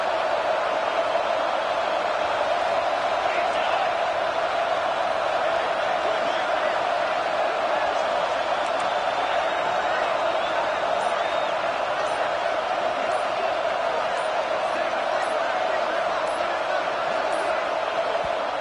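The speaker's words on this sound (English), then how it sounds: "the crowd coming to life here, trying to help this defense down in the red zone." Constant roar of a college football stadium crowd cheering on the defense in the red zone at a Texas A&M at Oregon game, dense and steady, with commentary voices over it.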